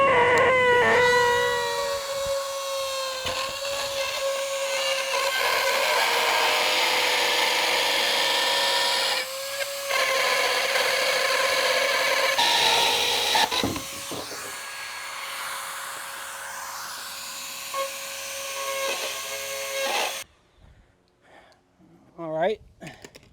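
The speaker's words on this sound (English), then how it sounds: "I give myself maybe a B- on my Dremel tool cutting" Dremel rotary tool cutting a bait pen well, a loud sustained high whine close by with shifts in pitch and short pauses as the bit bites, ending abruptly before some quieter handling noises.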